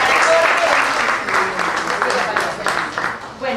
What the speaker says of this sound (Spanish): un aplauso acá para toda la gente del Sirio Libanés